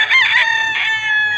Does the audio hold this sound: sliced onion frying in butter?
no